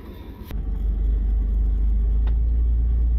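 A four-wheel-drive car's wheels spin in soft, yielding ground, a heavy low engine rumble and whir swelling after a moment and holding loud and steady nearby, with no talking.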